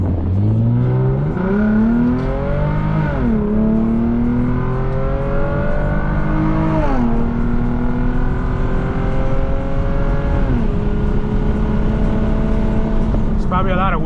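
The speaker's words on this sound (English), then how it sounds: "Probably a lot of wind noise now, so I'm gonna put up the windows just so it's not too loud." Inside a moving Lexus IS250 with straight-piped exhaust, the engine drones and rises through several acceleration sweeps, each pitch climb dropping back at a shift, over a constant rush of wind and road noise.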